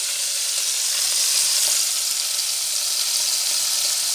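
Leeks softening in a hot pan give a steady, even sizzle that holds for several seconds with no pauses and no voices.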